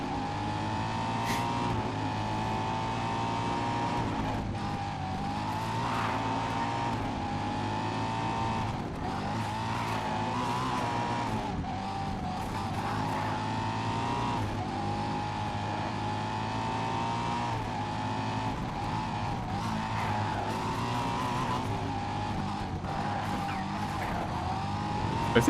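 Race cars in the GRID racing game mid-race, a continuous engine roar with shifting revs and repeated tire squeals and skids, loud and unbroken with no talking.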